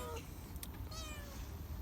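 Cats meowing while being fed raw liver in an uphill neighbourhood street, a few short meows rising over steady background noise, one near and others fainter.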